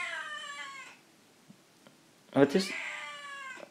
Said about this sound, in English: My cat is going mental.